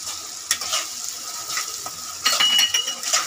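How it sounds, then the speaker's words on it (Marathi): Mutton masala fries in oil while a spoon stirs and scrapes the pan, giving a light crackling sizzle punctuated by small clinks of the utensil against metal. "फ्राय करत राहा तुम्ही मसाला।"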